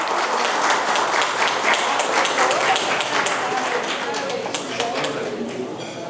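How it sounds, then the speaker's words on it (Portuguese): An audience applauds as a vice-president is called up to join the head table at a formal gathering; sustained, fairly loud clapping from many hands that tapers slightly toward the end. "palmas"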